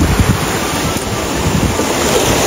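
Waves break continuously on a beach at Riviera del Conero, Italy, a loud, dense wash of surf mixed with wind rumble against the microphone, steady throughout with no voices.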